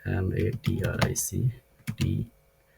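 Computer keyboard keys tapped in short bursts while entering GST details in accounting software, with someone talking over much of the typing.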